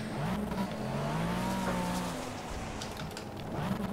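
A race car in the Project CARS video game pulls onto the track, its engine droning and rising in pitch with faint tire noise. The sound is loud, close and continuous, with no voices.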